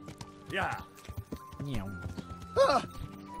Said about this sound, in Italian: Cavallo che appare completamente dal nulla